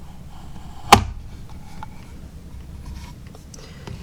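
A single sharp snip or cut on a part from an HO scale model railroad feed mill kit, close and clear, standing alone against a quiet room.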